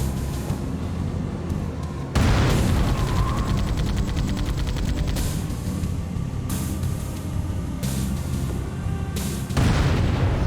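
Heavy booming cannon blasts from a tank in Halo: Combat Evolved, loud and close, with several big shots breaking through a constant rumble of engine and battle noise, no talking.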